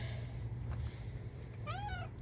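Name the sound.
cat growling and meowing, hidden underneath something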